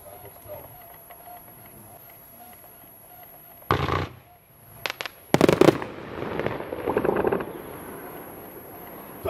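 Loud firework battery shots burst in quick succession after a quiet stretch, with a few separate bangs and then a crackling volley.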